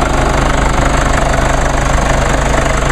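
A 2.1 liter four-cylinder twin-turbo diesel car engine idling with the hood open, a loud, close, steady knocking rumble with an even rhythm and no voices.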